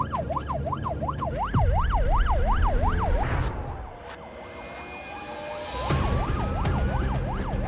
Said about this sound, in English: this means lights and sirens because every second counts